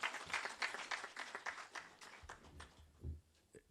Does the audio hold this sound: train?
no